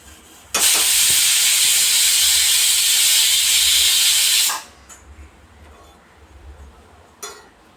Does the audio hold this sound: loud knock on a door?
no